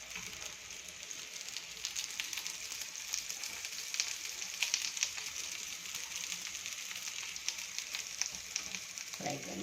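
Palak chana tikki frying over medium heat in a nonstick pan, giving a steady, close sizzle with continuous crackle and small pops, unbroken and alone.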